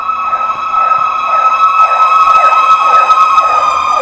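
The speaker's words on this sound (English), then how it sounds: "More sirens." A fire engine's wailing emergency siren cycles up and down steadily on a street in Salisbury, North Carolina, loud and close, with a continuous droning tone underneath and no talking.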